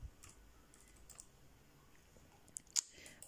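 A search term being typed on a computer keyboard into an online lookup for a business activity code, quiet scattered key taps followed by a couple of sharper clicks near the end, faint and close, no talk.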